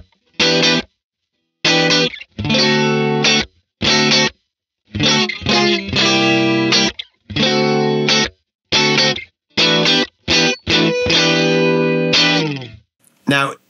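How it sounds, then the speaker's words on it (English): Electric guitar chords through a Blackstar St James amp strum in short bursts separated by silences, with a shimmering, wavering chorus effect and slight distortion on each ringing chord. "when you play chords, you get this really tight but slightly modulated chord sound."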